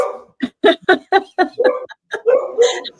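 A dog barks eagerly in a rapid run of short, loud yaps close by, mixed with whimpery yips, while people talk in a warm indoor setting.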